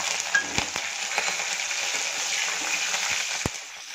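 Cumin seeds and green chilli fry in hot oil in a kadhai over lowered gas, making a steady crackling sizzle with a few sharp pops, close and alone.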